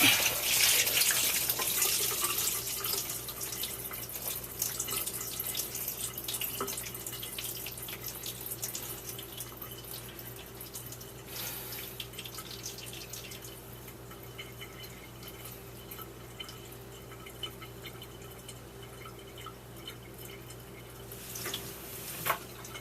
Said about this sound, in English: we're going to tilt it over and let the water out